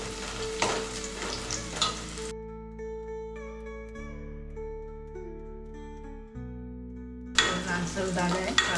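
Onion frying in the tempering for a Malvani-style prawn curry gives a busy sizzle and stirring at the start and end, with steady instrumental music filling the middle stretch.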